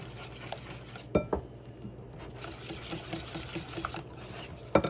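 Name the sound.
mixing vanilla and egg for pancake batter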